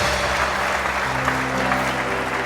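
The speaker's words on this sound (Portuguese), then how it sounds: "Você pode aplaudir o Senhor?" A church congregation claps in sustained, dense applause, loud and near, forming a continuous wash of hands with faint voices beneath.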